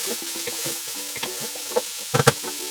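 Potatoes, carrots and peppers sauté in a tajine, a soft continuous sizzle punctuated by a scattering of spoon scrapes and clinks as the vegetables are stirred, with a few sharper knocks near the end.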